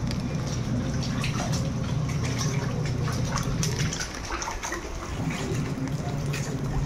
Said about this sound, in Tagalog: Naglalaba ka?